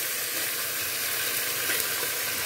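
Chicken pieces frying in hot oil with onions that have already browned, giving a loud, steady, close sizzle that holds dense and unbroken throughout, with no voices.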